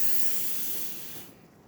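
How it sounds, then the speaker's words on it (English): Steam hisses steadily from the wand of a La Pavoni lever espresso machine as built-up pressure is released, a broad, close spray that cuts off sharply near the end, leaving a faint quieter hiss. "I'm gonna release some of that pressure to the steamer one."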